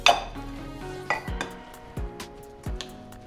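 Cooked bacon pieces are stirred into a bowl of twice-baked potato filling, producing a series of sharp utensil clinks against the bowl in a loose, repeating rhythm with quiet scraping in between.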